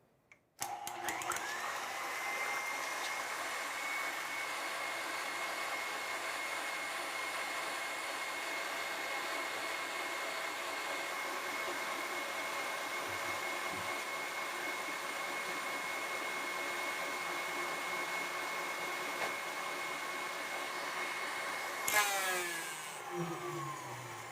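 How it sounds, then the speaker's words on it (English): An electric mixer whips egg whites without sugar for a carrot pumpkin chiffon cake, a steady loud motor whir that runs continuously for over twenty seconds, then shifts with brief rattling near the end. "Nicely whipped egg whites, but without the sugar."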